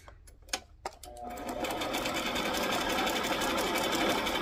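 Sewing machine stitching very close to the edge of a cupcake liner, a few handling clicks and taps before a steady, near, continuous rapid whir takes over.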